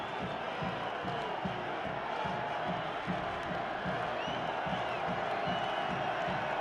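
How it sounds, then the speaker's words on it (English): Large football crowd cheering steadily at Bobcat Stadium during a Montana State versus Weber State college game, a continuous roar with whoops and clapping, distant and dense throughout. "This crowd is into it."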